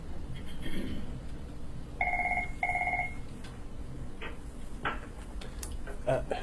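A telephone ringing in a committee meeting room, two short electronic double rings in quick succession, followed by faint clicks and shuffling, with a voice talking quietly in the room.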